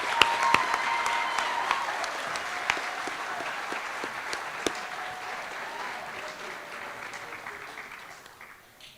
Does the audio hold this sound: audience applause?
yes